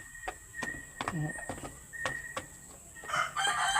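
Hybrid and native chickens cluck and squawk in short, scattered bursts close by, with a brief crow-like call and some background noise.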